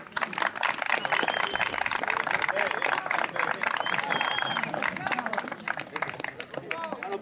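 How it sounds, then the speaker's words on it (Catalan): Crowd applause and clapping for the tennis finalists at an open tournament final, a dense steady patter of many hands lasting throughout with a few voices and cheers mixed in. "Un aplaudiment."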